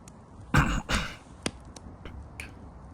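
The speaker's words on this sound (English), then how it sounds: "The only sound left was coughing." A sick person coughs in an emptied town during an epidemic, two sharp harsh coughs in quick succession followed by a few fainter clicks and breaths, fairly close and quiet overall.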